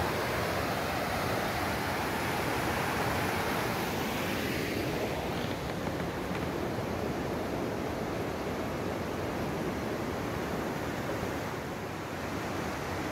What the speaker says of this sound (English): All right, this is the McLeod River.